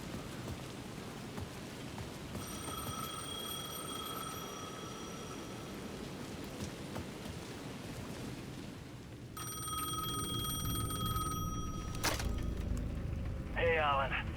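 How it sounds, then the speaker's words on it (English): Payphone ringing at the edge of a plaza in Alan Wake II, a repeated electronic trill sounding in bursts over steady rain with distant thunder, while a voice talks underneath. "The payphone at the edge of the plaza was ringing again."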